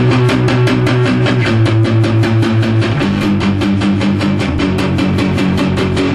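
Palm-muted power chords chug rapidly in a steady punk-style rhythm, eight quick strokes per chord as the progression shifts, loud and continuous.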